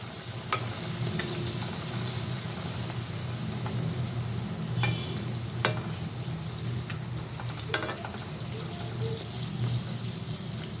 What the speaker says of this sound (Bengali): আমি আরেকটা পুরি দিয়ে দিলাম বন্ধুরা দেখুন বন্ধুরা আমার প্রত্যেকটা পুরি কি সুন্দর করে ফুলে উঠবে